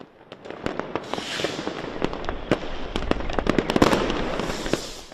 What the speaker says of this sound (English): the Berlin night sky was illuminated by a spectacular firework